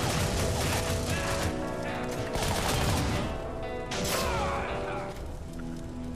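Rapid Gatling gun fire in the video game Shank, dense overlapping bursts of shots with metallic clatter and impacts, loud and continuous with brief lulls.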